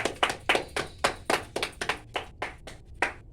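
Hands clap together in a steady rhythm at a rural party game, about a dozen sharp, close claps over a few seconds with no voices.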